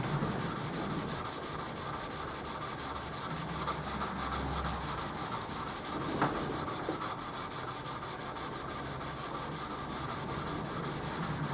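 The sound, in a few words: hand rubbing a wood finish back and forth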